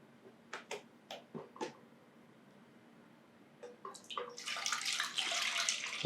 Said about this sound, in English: So I'm going to fill this bucket